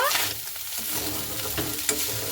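Fried onion being stirred with sugar in a pan, a steady close sizzle with scraping stir strokes throughout and a brief sharp clink near the end.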